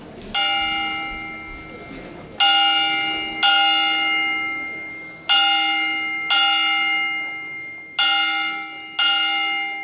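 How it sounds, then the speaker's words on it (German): In Myanmar the abbot strikes a large monastery bell, producing six ringing strokes in uneven pairs, each a loud metallic clang that hums away slowly between blows. "das Zeichen wird der Glockenschlag durch den Abt sein."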